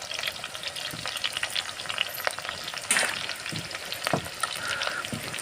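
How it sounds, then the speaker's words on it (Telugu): Steady sizzling of onions frying in a pan, with occasional stirring clinks and crackles, close and continuous. "చక్కగా ఉల్లిగడ్డలను వేయించుకోవాలన్నమాట చేపల కర్రీ కోసం"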